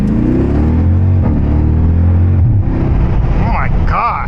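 Jeep SRT engine drones and revs steadily while driving, a loud low rumble with a rising whine that drops away near the end, with voices over it.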